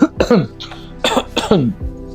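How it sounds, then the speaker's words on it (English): A man coughs in several short, harsh bursts with some throat clearing, close and fairly loud, with brief pauses between the coughs. "began coughing"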